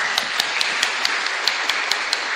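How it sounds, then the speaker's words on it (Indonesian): Hands clap in a steady, even rhythm during a Christian women's fellowship service at a church in Pekalongan. Crisp, regularly spaced claps sound over a dense background hiss. "Tepuk tangan untuk GWKP."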